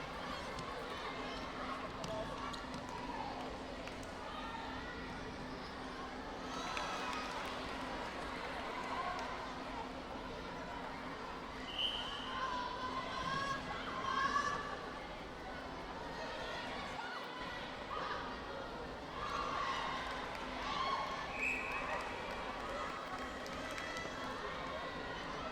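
Crowd at a netball match at the Santa Rosa Sports Complex, a steady roar of chatter and cheering that swells briefly in the middle, with a commentator talking over it throughout.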